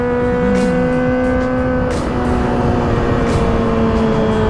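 A Kawasaki ZX25R motorcycle is ridden using the clutch because its quick shifter is not working. A loud, steady, high-pitched engine drone holds close and constant throughout, with a slight pitch shift partway through.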